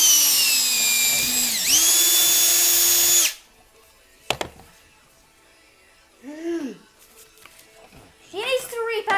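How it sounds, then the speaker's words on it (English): A 20-volt hammer drill runs loud and steady for about three seconds with a whining pitch that dips once mid-run, then stops; afterward a sharp knock and a couple of short voices follow in a quieter room. "Instead of using my Black & Decker drill, I wanted to use my dad's drill."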